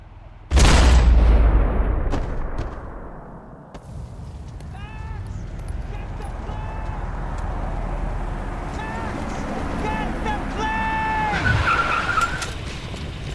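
A car tearing through a movie chase scene, opening with a sharp loud impact, then a sustained engine roar with tire squeals and skids repeating over the rumble.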